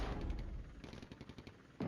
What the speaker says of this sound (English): I've got this artillery on counter battery